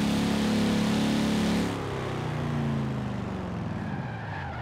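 A Ford Crown Victoria in Forza Horizon 4 skids with tires squealing and engine droning, loud and close, then easing into a lower, steadier engine note as it slides through a corner.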